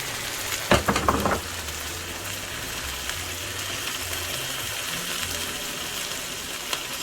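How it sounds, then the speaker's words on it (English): A steady, close sizzle of mackerel and tomato sauce cooking in a frying pan, with a brief burst of louder crackling and stirring near the start before settling into an even hiss. "I'm slowly adding the tomato sauce that it came in and the pieces of mackerel."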